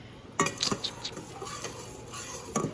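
A utensil stirs seasonings into a shrimp boil sauce, giving a few sparse, quiet clinks and scrapes against the bowl, spaced irregularly with soft stirring between them.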